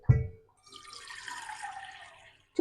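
A short knock, then two cups of water pouring steadily into a bowl for a couple of seconds before trailing off, followed by a brief clunk.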